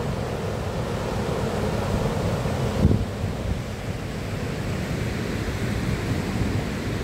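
Urriðafoss waterfall on Iceland's Þjórsá river, its most voluminous falls, gives off a deep, steady roar, with gusts of wind buffeting the microphone throughout.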